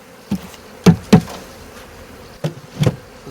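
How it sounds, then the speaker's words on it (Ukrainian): A small swarm of honeybees being hived during swarm catching in the apiary, heard as several brief, close buzzes and bumps that flare up in short bursts over a low hum. "Такий от, бачите, маленький рій"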